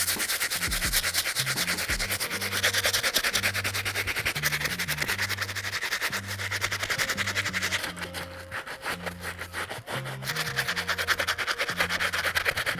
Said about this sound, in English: Now it's time to move on to the stiff bristle brush